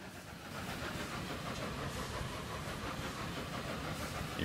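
A steam train in the Roblox game Steam Era rumbles steadily with a dense, continuous chugging and rattling, loud and close, without any talk.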